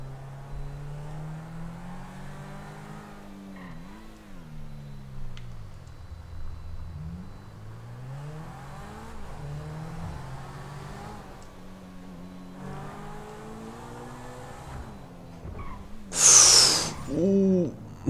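The Turismo sports car, modeled on a Ferrari 360 Modena, in GTA IV, its engine revving and shifting at moderate volume with repeated rising and falling pitch sweeps, someone talking over it and a brief noisy burst near the end.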